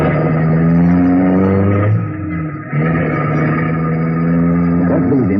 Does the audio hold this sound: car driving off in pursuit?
yes